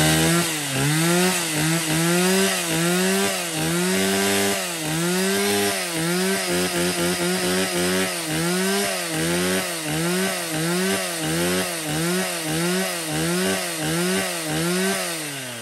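A Stihl 028 chainsaw, a Japanese-market used saw for logging acacia wood, runs loud and close with a rough two-stroke engine note that rises and falls in repeated throttle revs, heard alone without talk.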